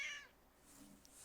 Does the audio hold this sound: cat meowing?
yes